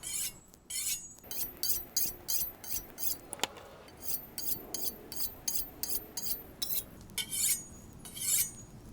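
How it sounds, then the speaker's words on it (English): Kitchen knife drawn across a 1200 grit sharpening stone in a run of short, quiet, evenly spaced scraping strokes, with a single light clink partway through and no talk. "on the final stone, I'll just do an extra 10 strokes on each side"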